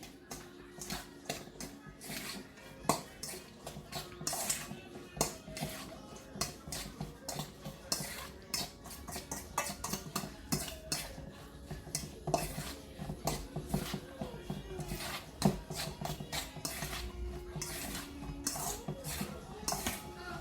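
Sugar is stirred into coleslaw in a bowl, with a utensil clicking and scraping against the dish in quick, irregular taps, close by but fairly quiet, with no talking.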